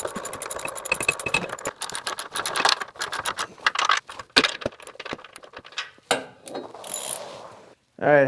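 Deep well socket ratchet tightening large nuts with lock washers onto four posts of a boat mount, rapid ratcheting clicks in quick bursts with brief pauses, close and fairly loud, ending in a few metallic clanks.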